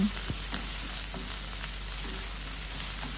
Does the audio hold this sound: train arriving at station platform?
no